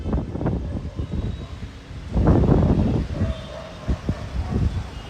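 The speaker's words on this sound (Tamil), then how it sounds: "அங்கங்கே அப்படியே அந்த காற்று வருது. இந்த காற்று போக்கில் வருது." Gusty outdoor wind before rain buffets the microphone in uneven bursts, rising strongest around the middle, loud and close, with rustling and a faint distant hum underneath.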